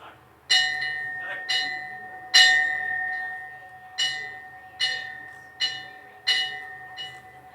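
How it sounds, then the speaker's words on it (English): A ceremonial bell rings at an interfaith forum in Pune, India, sounding about eight clear, resonant strikes at a steady, unhurried pace, each ringing out and decaying before the next. "the symbolic act of ringing the bell"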